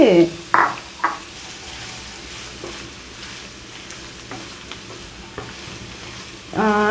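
Finely chopped onions and green chilies fry in a pan over a medium flame for an Andhra prawn fry. A steady low sizzle runs throughout, with louder scraping stir strokes at the start and end.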